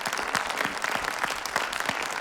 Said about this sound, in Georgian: მაგრამ აპლოდისმენტები